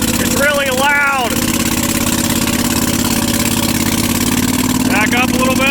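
A Bolens QT16 garden tractor engine runs loud and steady at raised throttle, close by, a continuous droning rumble throughout with a voice talking briefly over it at the start and near the end.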